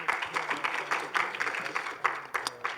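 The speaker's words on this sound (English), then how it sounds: "Let's give a huge round of applause to Professor Lang Bing Huan" An audience at an academic talk concert gives quiet, fairly distant applause as a professor is welcomed to the stage, a steady patter of many hands clapping with no other sound.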